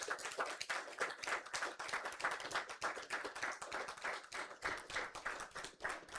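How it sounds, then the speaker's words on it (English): A small audience claps for the filmmakers at the end of an animation livestream Q&A, steady dense hand-clapping with distinct individual claps, fairly close and sustained throughout with no talking over it. "round of applause for our filmmakers"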